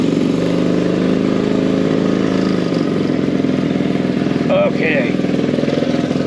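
A 20-year-old Vespa PX125 two-stroke scooter idling and pulling away nearby, with a steady buzzing putter throughout and a brief spoken word partway through.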